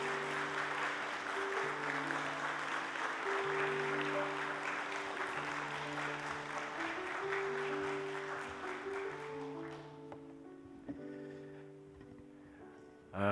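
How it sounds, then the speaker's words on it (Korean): A church congregation claps to welcome a missionary, with steady broad applause under sustained organ or keyboard chords, the clapping fading out after about ten seconds while the held tones carry on alone. "사랑합니다 하는 큰 박수로 환영해 주시길 바랍니다"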